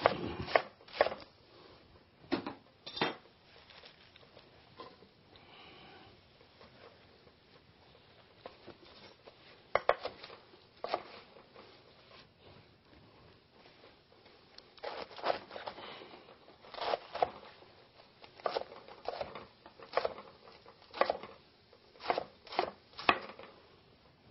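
Romaine lettuce being chopped with a knife on a cutting board, heard as quiet, irregular bursts of crisp cuts and taps that come in clusters, with short pauses between them.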